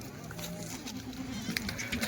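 Goats from Junagadh, Gujarat bleat at a livestock market during live sales. Short, nasal calls rise over a constant crowd murmur and shuffling, with people talking nearby.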